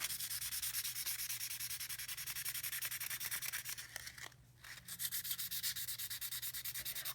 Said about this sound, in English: Then I'll apply some rust protectant on top of it there.